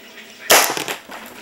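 A homemade zip gun fires once outdoors, a sharp close crack followed by a short crackling tail and a smaller pop, loud against quiet surroundings.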